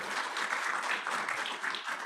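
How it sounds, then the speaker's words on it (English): Audience applause at the close of an event, steady dense clapping from a sizeable crowd that carries evenly through the whole short stretch without pause. "Let's give Claudia one more round of applause for doing such a great job"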